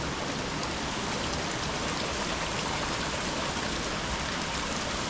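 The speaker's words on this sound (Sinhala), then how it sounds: "අපි මෙන්න මේ ඇල්ල මුදුනේ තමයි හිටියේ. මේක යකා හැඬු ඇල්ල." Yaka Handu Ella waterfall in Sri Lanka, heard from the rock slab at its top: a steady, loud, unbroken roar of rushing, splashing water, with no voices.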